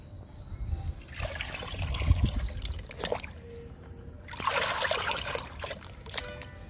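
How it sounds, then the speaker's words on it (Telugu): Liquid fertilizer is poured onto green chilli plants, heard as a close, irregular trickling and splashing in two bursts with a quieter dribble in between. "పచ్చిమిర్చికి కూడా లిక్విడ్ ఇచ్చేద్దాము"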